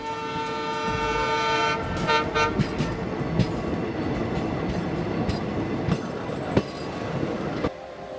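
The Maharajas' Express train rumbles steadily along the rails in India with a continuous clatter, and a horn-like tone sounds near the start.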